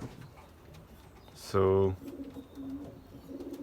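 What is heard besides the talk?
racing pigeons cooing in a loft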